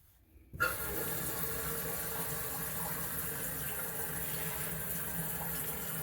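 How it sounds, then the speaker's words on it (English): After a brief silence, water suddenly starts flowing from an opened valve at the bottom of a toilet and runs steadily with a constant hiss. "I'm going to open the valve at the bottom, and then we're going to watch the trickle of water come down"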